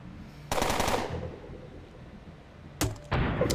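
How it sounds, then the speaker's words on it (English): Grenade launcher fire in the video game Underrail: a sharp, loud burst bursts out, rings and decays, then two more abrupt blasts follow close together near the end. "I love grenade launchers in games."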